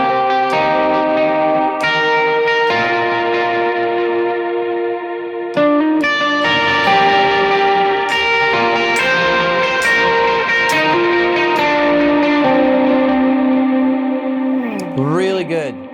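Electric guitar notes ring out through a rhythmic dotted-eighth echoing delay, repeats trailing each phrase over sustained, effect-laden chords, with a Morning Glory pedal engaged, played through a Citizen CJ Pro.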